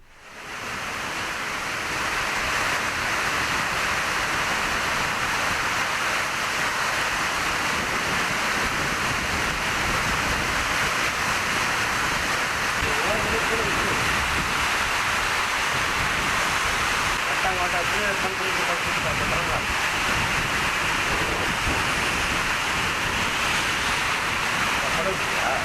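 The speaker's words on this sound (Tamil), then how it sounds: "திருவண்ணாமலையில் 1 மணி நேரத்திற்கும் மேலாக பெய்த கனமழையால் சாலைகளில் தண்ணீர் பெருக்கெடுத்து ஓடுகிறது." Floodwater rushes along roads in Tiruvannamalai after an hour of heavy rain, a dense, continuous broadband roar like surf or a waterfall that holds steady and loud throughout.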